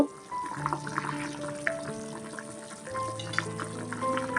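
Milk heating in a pot on the stove toward a boil, a soft continuous bubbling and simmering hiss with light clinks, close and fairly quiet.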